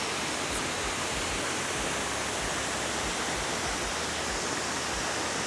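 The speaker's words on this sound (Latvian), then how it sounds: "Šis ūdenskritums ir 28 metrus augsts." Waterfall 28 metres high at Plitvice Lakes in Croatia, a loud continuous broadband roar of falling water heard close and unbroken throughout, with no voices.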